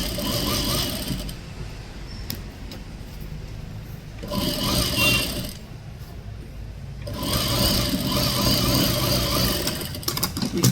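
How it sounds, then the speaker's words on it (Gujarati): A sewing machine stitches a blouse sleeve in fast bursts, running for a few seconds, pausing, then running again, loud and close with a steady whirring hum and no talk. "તો ચાલો બીજી પણ સિલાઈ મારી જોઈએ."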